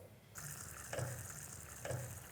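Corn ribs sizzle while half-fried in hot oil in a home kitchen, a soft steady crackle with two brief clinks or stirs, fairly quiet and close with no talking.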